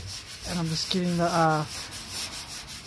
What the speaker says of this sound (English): So I'm just giving it a quick wet sand now.